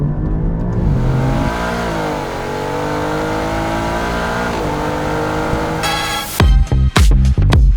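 A powerful Ferrari engine in an Alfa Romeo sports sedan revs and holds a high, rising whine, then cuts into a series of sharp, loud throttle blips near the end.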